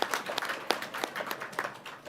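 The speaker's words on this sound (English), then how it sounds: "now we should clap for the Carl Hayden PLC team for doing a great job" Applause for the Carl Hayden PLC team at a PXU governing board meeting, a thin, scattered round of clapping from a small group, moderately close and fairly quiet.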